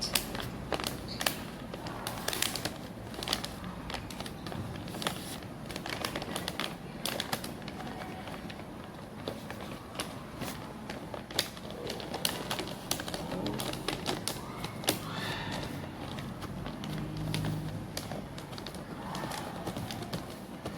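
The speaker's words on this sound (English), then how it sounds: "Fold the paper like that." Gift wrapping paper is folded into small decorative pleats, giving a long run of close crisp taps, crinkles and creases at an uneven pace.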